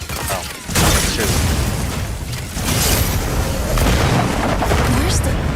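Gauss cannon impacts in the mech combat game Mecha Break, heavy booming blasts over a continuous roar of battle noise, loud and dense.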